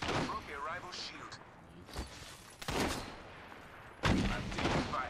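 Gunfire in Apex Legends, a few short bursts of shots spaced apart, fairly quiet and heard between and under talking.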